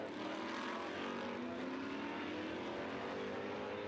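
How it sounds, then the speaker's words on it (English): Lola T332 F5000 race cars with 5-litre stock block V8 engines roar steadily at a distance on a race circuit, a dense, droning blare with pitch slowly rising as the cars pass, no voices. "Listen to that. 5-litre stock block V8s."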